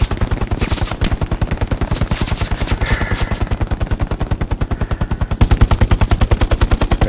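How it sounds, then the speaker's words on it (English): Sustained automatic machine gun fire in a multiplayer military shooter game, rapid evenly spaced bursts of loud shots rolling on without pause, growing heavier near the end, with no talk over it. "keep up that MG fire"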